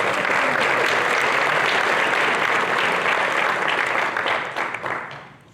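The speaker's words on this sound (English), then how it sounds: "And audience, please applaud these civil servants." Chamber of commerce audience applauding elected officials: sustained, dense clapping from a large crowd, steady and loud throughout before tapering off at the end, with no talking over it.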